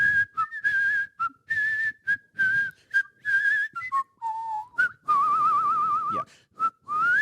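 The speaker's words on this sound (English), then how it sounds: "Do you think he's whistling the Harry Potter theme?" Someone whistles the Harry Potter theme as a clear, close melody of short and held notes with brief gaps, wavering slightly in pitch, with no talk.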